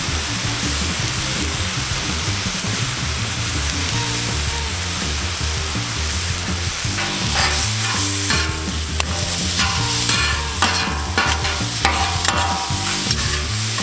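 Philly cheesesteak meat and onions fry on a Camp Chef griddle with a steady, loud sizzle throughout, joined by intermittent scraping and stirring of a spatula against the flat top.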